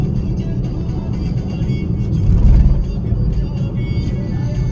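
Car driving along Patna Marine Drive, a steady close engine and road hum with a brief swell of revving midway, continuous traffic noise throughout.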